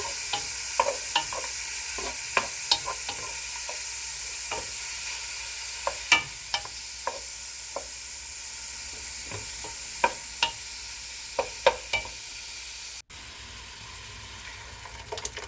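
Harira soup ingredients go into a cooking pot and are stirred, giving a steady sizzle with scattered scraping and clinking taps throughout.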